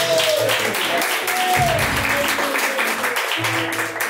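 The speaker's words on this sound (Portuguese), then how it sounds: "Palmas para o nosso Deus." A church congregation at a live Pentecostal service claps together in a sustained, even wash of applause, with voices and musical tones ringing through the clapping.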